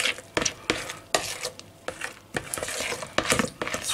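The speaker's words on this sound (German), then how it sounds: "Jetzt rühren wir das noch schön durch." Dessert cream with peach juice and vanilla sugar is stirred in a bowl, a rhythmic series of soft wet scraping strokes with spoon clinks, close up and without talking.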